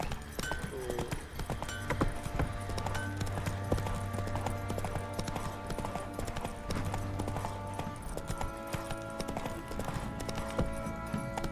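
Geralt's horse Roach gallops in The Witcher 3: Wild Hunt, a fast, continuous drumming of hooves heard steadily throughout under background music and game ambience.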